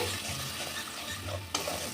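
Spiced masala paste frying in a pan and being stirred, a low steady sizzle with soft scraping strokes and a sharper clack near the end, close and alone without talk.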